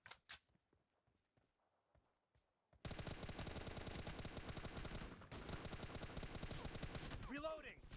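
Gunfire in BGMI, the mobile battle royale game, during a team deathmatch: a few sharp isolated shots, then sustained rapid automatic fire that rattles on loudly for several seconds with a brief break.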